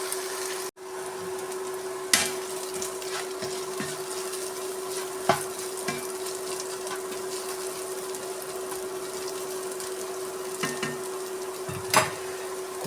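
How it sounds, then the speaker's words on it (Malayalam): Chicken kuthipodi fries in a pan with a low, steady sizzle, broken now and then by the sharp clink of stirring. "കുറച്ച് നേരം ഇരിക്കട്ടെ, ഫ്രൈ ആവട്ടെ."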